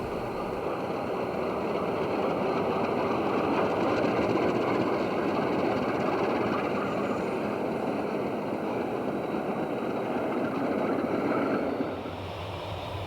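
A long freight train rolls past on the St. Lawrence and Atlantic line near Mechanic Falls in winter 1997, a steady, loud rumble and roar of wagons that holds for about twelve seconds before easing off at the end.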